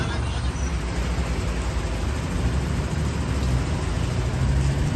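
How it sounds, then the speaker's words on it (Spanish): Heavy rain falls on a street in Sináparo, Michoacán, with water running along the roadway, making a dense, steady hiss and rumble that stays constant throughout. "estaba lloviendo bien fuerte y vean cómo va corriendo el agua por ahí"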